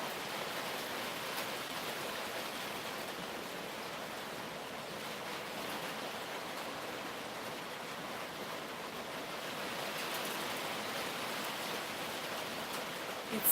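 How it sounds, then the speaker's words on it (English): Steady rain, a dense, even hiss of drops that holds constant throughout with no talk over it. "I love the rain."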